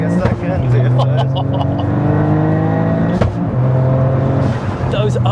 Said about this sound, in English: Those upshift bangs are insane.